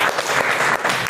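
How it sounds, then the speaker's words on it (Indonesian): A classroom of students claps together in a short, dense burst of applause during a lesson, brief and fairly close. "tepuk tangan."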